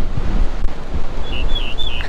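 Gusty wind at Clear Lake Park on Lavon Lake buffets the microphone with a low, uneven rumble, while faint bird chirps sound in the distance.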